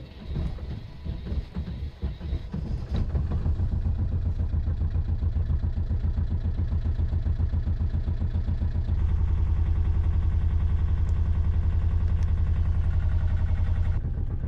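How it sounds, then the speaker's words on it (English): A sailboat's inboard engine cranks briefly, catches, and settles into a steady, loud mid-pitched idle that carries on alone without talk, a slight shift in tone coming partway through the run. "I'm going to try and fire up the engine and get the heating going"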